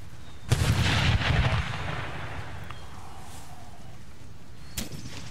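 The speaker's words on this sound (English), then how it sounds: "Beautiful cannon work." Cannons boom in an Empire: Total War battle, a heavy rolling volley of artillery fire with a long fading rumble, followed by a single sharp distant shot.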